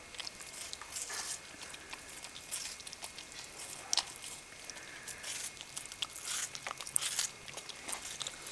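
An American Eskimo dog eats watermelon, with faint, scattered crunching bites and wet chewing close by, quiet and intermittent against a hushed background.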